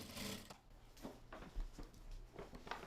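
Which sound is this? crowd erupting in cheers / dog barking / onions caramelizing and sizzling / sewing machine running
sewing machine running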